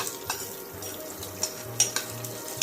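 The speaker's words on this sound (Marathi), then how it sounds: "लसणाच्या पाकळ्या छान अशा सोनेरी रंगावर परतून घ्या." Cumin seeds and garlic cloves fry in a pan, giving a steady low sizzle with scattered light clicks and stirring scrapes, close by and with no talk.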